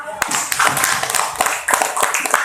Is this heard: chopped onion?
no